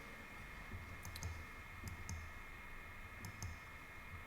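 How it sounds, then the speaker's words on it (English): A handful of sharp clicks, likely a computer mouse during office work, arrive in small irregular pairs and singles over a steady low hum, quiet and close, with no talking. "I'm doing too much clicking."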